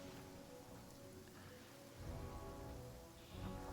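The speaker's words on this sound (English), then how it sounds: "Every single time I fast travel into a place that's raining, Kuchin says that" Steady rain falls across an outdoor area in the Genshin Impact video game, a continuous even hiss of drops that swells slightly louder toward the middle and end, with no voices.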